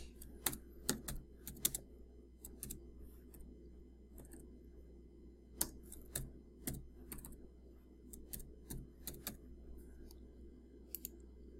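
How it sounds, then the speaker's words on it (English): Quiet keyboard typing in irregular bursts of crisp key clicks over a low steady hum, with brief pauses between runs of keystrokes. "So I'm just going to type"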